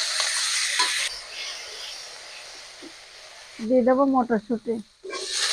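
Potatoes and peas fry in a pan of hot oil with bay leaf, dried chilli, crushed ginger and green chilli, a steady sizzle with stirring that drops away briefly while someone speaks nearby.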